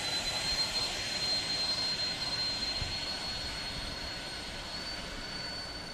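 Su-27 electric ducted fan RC model jet flying outdoors in cold weather, a steady whooshing whine with a thin high tone, moderately loud and fading slightly as it passes.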